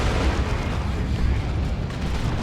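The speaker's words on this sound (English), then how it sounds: "Rocket run." Rocket run ability strikes in the video game Dawn of War 2 pound the battlefield, a dense, continuous roar of booming explosions that stays loud and steady throughout.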